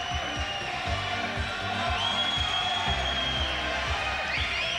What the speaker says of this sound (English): Crowd buzzing.